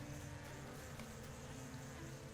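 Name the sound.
bees buzzing around a new hive in video game LOTRO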